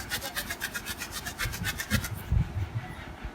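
Ink-stained denim jeans are rubbed briskly with a cleaning mixture, making close, rhythmic scrubbing strokes at a steady quick pace that slow into a few heavier rubs near the end.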